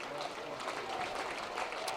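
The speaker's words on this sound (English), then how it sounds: "Crowd trying to get into it here." Crowd at a college baseball game between Florida and Miami cheering and clapping, a soft continuous roar in the distance beneath a play-by-play announcer's voice.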